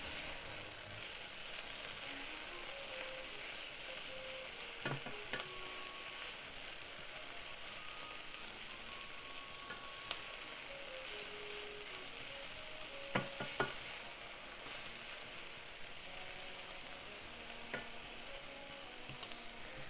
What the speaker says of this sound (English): So let's add the leek. Just keep cooking until the leek is nicely browned.